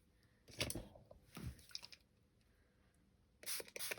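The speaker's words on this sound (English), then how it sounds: "I'm going to splatter this all over my tag" Watered-down red paint flicked onto a paper craft tag, heard as a few quiet, close spatters and drips in separate bursts with near silence between.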